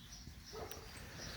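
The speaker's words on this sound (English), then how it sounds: "Somebody's walking their dog. She's barking at it." A dog barks outdoors at someone walking another dog past, the yips faint and distant under a steady background hum and some overlapping sounds.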